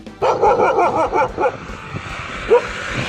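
A dog barks several times in a quick burst, fairly close, then goes quiet before one last short yelp, with light outdoor noise behind.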